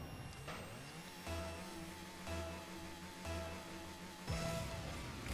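Car engine in the video game Rocket League, a steady mid-pitched hum with repeated revving pulses and a boost-like surge near the end, continuous and fairly loud without speech.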